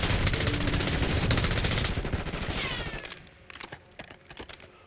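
Rapid automatic weapon fire in Call of Duty: Black Ops 6 multiplayer, dense bursts loud for the first three seconds, then thinning to scattered, sharper cracks and quieter distant shots.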